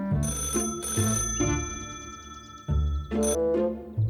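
A telephone rings at a Catalan geology program's base, a bright electronic warble repeating in several bursts over about four seconds, close and clear with no talk.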